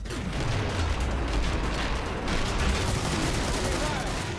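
Sustained rapid gunfire from a gun in the game Killing Floor, a dense continuous rattle of shots with heavy recoil, loud and unbroken, with a voice talking faintly underneath.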